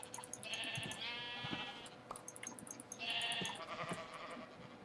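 Sheep bleat in the Minecraft video game, two clear, fairly loud bleats about two seconds apart over a faint background hum, with no talking.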